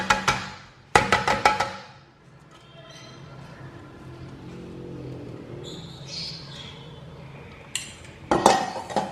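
Soaked toor dal tipped into a Hamilton Beach blender jar, with sharp clattering bursts at the start and end and a quieter stretch of soft rattling between.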